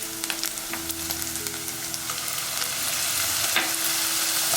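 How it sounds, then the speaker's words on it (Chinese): Ingredients crackle and sizzle in hot oil in a wok, seasoned with a few drops of fish sauce, with a dense, steady frying hiss and occasional scraping stirs growing slightly louder toward the end. "再翻炒一下就可以关火"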